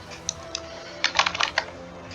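Short typing on a computer keyboard while searching icons in a design app: a few isolated key clicks, then a quick close burst of taps that stops abruptly.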